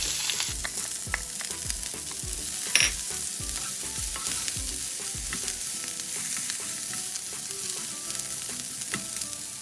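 Cabbage and carrot hit a hot pan with turmeric and fry with a loud steady sizzle, broken by repeated stirring scrapes and clatter in a quick irregular rhythm, with no talking.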